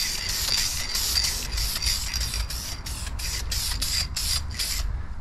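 Short repeated bursts of an aerosol spray can misting paint onto a muscle car console, about a dozen quick hissing passes in steady rhythm, close and fairly loud.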